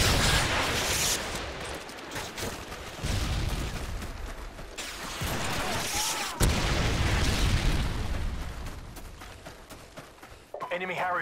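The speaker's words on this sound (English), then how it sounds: "Tossing stun grenade." A stun grenade goes off in a first-person shooter match, a loud boom among continuous game gunfire and explosions, with players talking over the action throughout.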